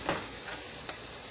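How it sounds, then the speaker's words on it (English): Shrimp cook in a hot pan with a steady sizzle and a couple of brief stirring scrapes, close by and without speech. "We're going to let our shrimp cook down a little bit, and they turn nice and pink."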